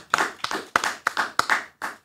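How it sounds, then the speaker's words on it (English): Hand claps from a small group at a podcast taping, about seven sharp bursts over two seconds in an uneven rhythm, close and clear with no talking over them. "Clap it up for Isaac Craig"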